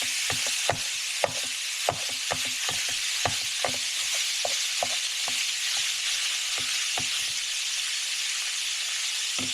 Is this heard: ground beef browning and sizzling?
yes